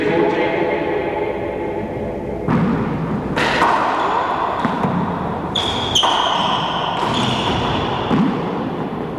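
In a four-wall handball match, a handball smacks off the walls and ceiling with several sharp, echoing thuds in an indoor court, amid shoe squeaks and crowd murmur.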